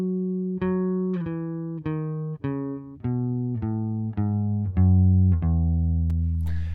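A bass guitar picked note by note climbs a major scale from the root up to the ninth, nine steady plucked tones ringing one after another, up close with no voices.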